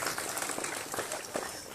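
A church congregation claps for a guest in a short, soft burst of scattered hand claps with a hollow room feel.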